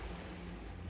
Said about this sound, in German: Okay, wir haben immer noch Meeresrauschen.